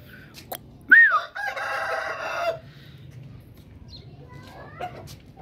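A rooster crows loudly nearby, with a short cluck or meow-like call just before it, as Aseel and desi chickens eat breakfast alongside a cat; faint pecking and outdoor ambience follow.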